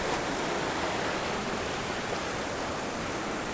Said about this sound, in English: So you can see this creek is just raging.